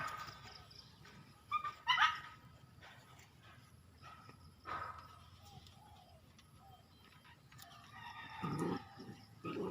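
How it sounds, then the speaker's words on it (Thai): A few sharp dog barks ring out at a moderate distance, spaced apart over quiet outdoor background noise with faint bird calls. "มีน้องหมาเพื่อนบ้านสองตัว"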